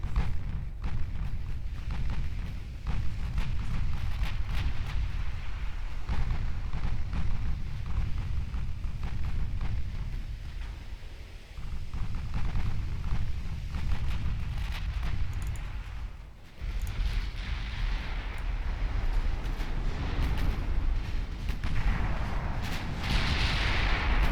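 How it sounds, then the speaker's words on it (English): Heavy naval gun turrets firing in the Ultimate Admiral Dreadnoughts warship game: sustained booming, rumbling barrages with deep low-end roar, dense and continuous, with brief lulls between salvos and no speech. "all 4 turrets firing now"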